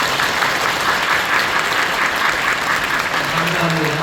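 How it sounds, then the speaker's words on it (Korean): Warm welcoming applause fills a church during a Christmas service as children are greeted, with loud, even clapping from a large congregation that holds steady throughout. "우리 뜨겁게 환영하는 박수."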